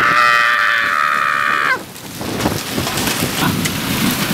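Hail pelting down in a summer storm: a loud tonal cry gives way to a dense, rattling patter of hailstones with scattered sharp impacts, close and continuous.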